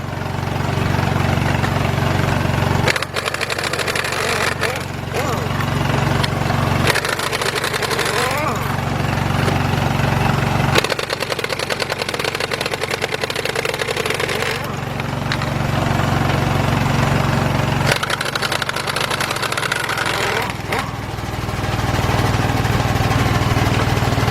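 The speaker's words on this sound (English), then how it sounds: "Got the air compressor going because it's kind of loud." An air compressor runs loud and steady in a garage during front coil spring work on a 1999 Ford Expedition, its low motor drone cycling with brief dips every few seconds across the whole stretch.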